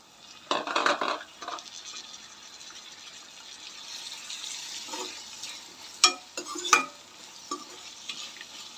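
Chopped tomatoes are tossed into a hot pan for tomato rice and sizzle. Brisk stirring, scraping and a couple of sharp utensil clinks sit over a low steady fry.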